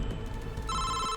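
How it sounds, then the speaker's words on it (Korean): A telephone rings at a police station. A bright electronic ring cuts in about halfway through, sounding loud and close over a low background rumble. "경찰서에 한 통의 전화가 걸려옵니다"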